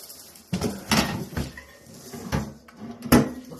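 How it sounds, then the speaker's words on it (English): Drawers on a new heavy-gauge steel drill bit dispenser cabinet slide open and shut, producing a series of close, sharp metallic clunks and rattles spaced irregularly over a few seconds, with no talking. "Look how easy those drawers move."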